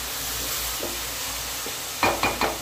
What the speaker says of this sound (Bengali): পেঁয়াজটা একটু ভাজা হয়ে গেছে,